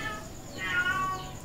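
A cat meows once, loudly and close by, in a drawn-out, wavering cry over a low background hum.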